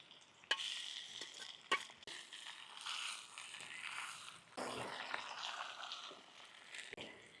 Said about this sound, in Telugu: ఇప్పుడు మనం కుమ్ముకున్న ఉల్లికారం ఉంది కదండి, ఇది కూడా దీంట్లో వేసేసుకొని నూనెలో మగ్గించుకోవాలి మంచిగా